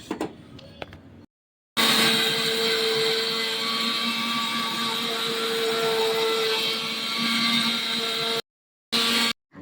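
A mixer grinder whirs loudly while grinding garam masala spices, a steady high motor whine running for several seconds, preceded by a few brief handling knocks and followed by short bursts after pauses.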